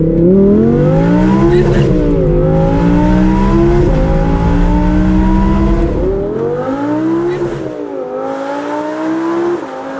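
Audi R8 accelerating hard from a standstill, its engine note climbing loudly through the gears with two clear shift dips where revs drop and rise again, close and dominant throughout.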